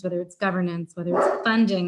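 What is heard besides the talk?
dog barking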